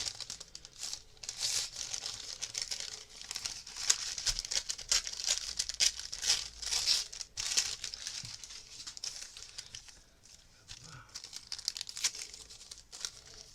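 Ice cap paper crumpled by hand for an art activity, giving a close, continuous crinkling and rustling with bursts of tearing-like crackle for about thirteen seconds, with no talk.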